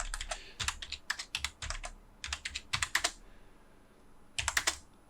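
AutoCAD commands being typed on a computer keyboard: quick bursts of crisp, close key clicks, several rapid strokes then short pauses, a final cluster near the end, with no voices.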